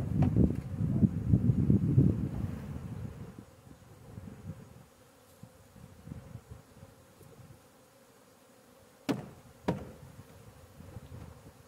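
Honeybees drone inside a hive being moved from Langstroth to Layens frames, loud and close at first, then fading to a softer hum with a few sharp knocks and clicks near the end.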